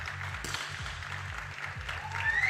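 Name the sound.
crowd cheering at shooting competition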